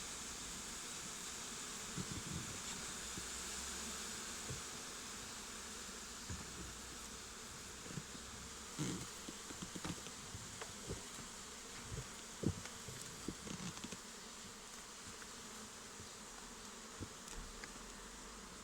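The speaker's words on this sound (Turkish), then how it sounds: "arı." A continuous hum of many buzzing honeybees at close range during a honey harvest at the hive, steady throughout with occasional soft knocks and rustles.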